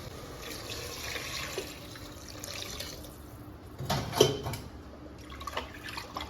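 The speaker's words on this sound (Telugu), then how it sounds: "రైస్కి తగ్గట్టు ఎసరు పోసుకోవాలి" Water pours into a cooking pot for rice, a steady close splashing flow that swells briefly midway and then continues evenly.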